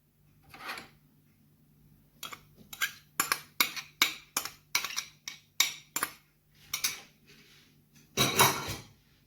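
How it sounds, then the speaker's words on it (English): Green peas mashed with a utensil in a mixing bowl, in a run of sharp scraping and tapping strokes with short pauses between them, close and distinct in an otherwise quiet room, with no speech. "and you mash the green peas"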